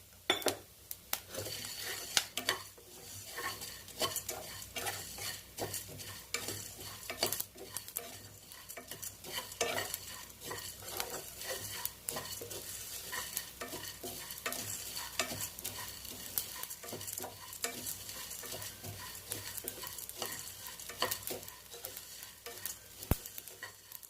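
Spices for rasam powder dry-roast in a pan with a little oil, a spatula scraping and stirring steadily over a faint, continuous sizzle, close and unbroken throughout.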